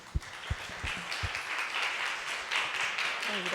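A few isolated claps open, then an audience at a talk on biomimicry in design and architecture breaks into full, sustained applause that continues to the end.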